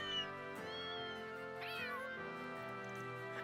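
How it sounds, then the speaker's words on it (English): Cute cat meows play as a website Easter egg: a handful of short, clear, high-pitched mews one after another, close and fairly quiet, with no talking. "It plays a collection of cute cat sounds are recorded in the capital."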